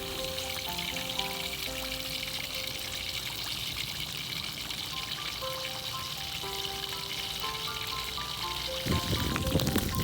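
Pork leg frying in moderately hot oil with the skin side down, a continuous close crackling sizzle under soft tonal background music, growing rougher near the end.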